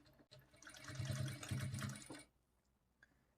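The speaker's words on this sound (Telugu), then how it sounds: "ఇప్పుడు ఇక్కడ నుంచి స్టార్ట్ చేసుకొని స్టిచ్ చేసుకోవాలి" A sewing machine stitches a blouse seam in a short burst of rapid, rhythmic whirring that runs for about two seconds, then stops and leaves a quiet room.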